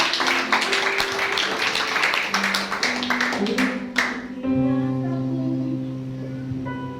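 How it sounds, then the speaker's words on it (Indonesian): A church congregation claps in a quick, dense patter for about four seconds, then sustained musical tones take over as the clapping stops. "Berikan tepuk tangan yuk"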